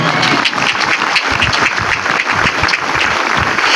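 A church congregation at an evangelism campaign gathering applauds for the Lord, dense, loud clapping from many hands that stays steady throughout, with no voice over it.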